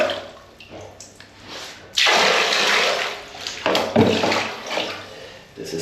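A toilet in an Indomaret convenience store restroom flushes with a loud, close rush of water that surges suddenly, runs for several seconds and then gurgles as the tank refills.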